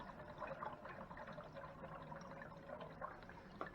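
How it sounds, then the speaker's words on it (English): Faint liquid gurgling and bubbling, with soft sloshing and small pops as Chemsan sanitizer drains from a keg and CO2 bubbles into a second keg, quiet and continuous. "That is the sound of it running out of Chemsan in the first keg, bubbling CO2 into the second"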